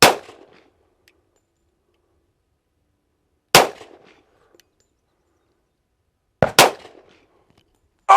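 Three sharp, loud gunshots from a 10mm Springfield 1911 pistol fired at an outdoor range, widely spaced and each ringing out briefly, with a fourth shot starting right at the end.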